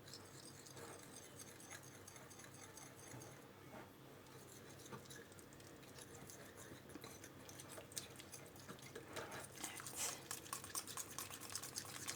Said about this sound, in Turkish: şu kakao topları dağılana kadar güzelce çırpacağım